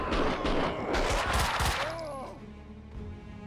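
Rapid overlapping gunfire erupts during a slow-motion shoot dodge in Max Payne, a dense loud volley of shots with crashing debris that fades into quieter ambience.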